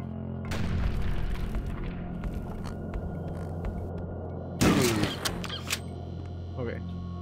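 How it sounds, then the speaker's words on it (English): A grenade blast in the HROT video game bursts out loud and close, a sharp broadband boom with rumbling debris trailing off over a steady low game drone, with someone talking before it. "Look out, buddy! There's a grenade coming!"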